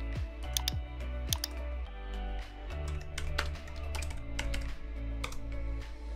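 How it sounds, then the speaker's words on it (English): Keys tapped on a computer keyboard to name a new folder in Google Drive: a steady run of sharp, close clicks over a continuous musical background, with no speech. "Just press N on the keyboard."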